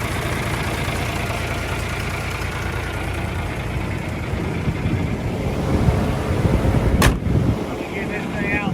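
An old tractor engine running steadily nearby, a continuous rough mechanical drone with rising intensity toward the end and a sharp clank, with people talking over it.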